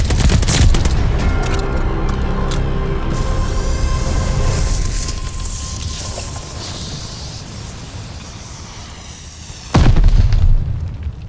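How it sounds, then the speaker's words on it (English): Heavy glide bomb explosions in the Call of Duty: Vanguard free-for-all match, with a loud booming blast that rolls and fades, scattered crackling debris, then another sharp burst near the end and no talk. "Glide bomb ready for target."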